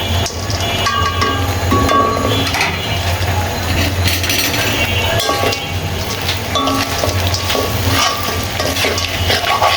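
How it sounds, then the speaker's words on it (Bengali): Bitter gourd slices tipped into hot oil set off a loud, steady sizzle of frying, with stirring clinks and scrapes in the pan throughout and no talking. "এখন আমি করলাগুলো ঢেলে দিচ্ছি তেলের ভিতরে।"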